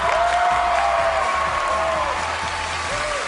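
A television talent-show audience applauds and cheers for the dance troupe Cheer SF, a dense, steady wash of clapping with crowd noise and a faint host-like voice or tone threading through.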